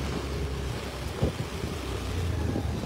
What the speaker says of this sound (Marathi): पुन्हा एकदा पावसाने जोर घेतलेला आहे. पुन्हा एकदा पावसाचं प्रमाण जे आहे वाढत चाललेलं आहे.